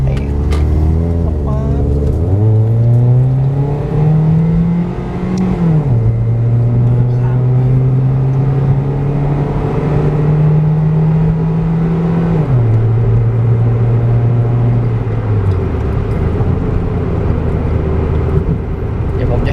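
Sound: Toyota Vios car engine accelerating hard

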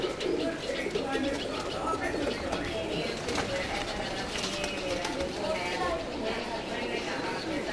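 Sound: Pakistani pigeons cooing

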